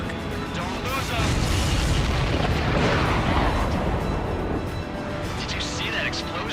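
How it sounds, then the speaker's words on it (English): Missile explosion hitting an enemy supply ship in a flight combat video game, a loud sustained booming blast with rumbling debris that swells and fades. "Did you see that explosion?"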